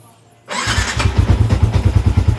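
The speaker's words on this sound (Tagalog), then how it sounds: "Karon nato siyang i-sound check na to. Sound check." A Yamaha Sniper 150 motorcycle engine starts after a moment of near silence, then settles into a loud, close, steady idle with a pulsing rhythmic beat.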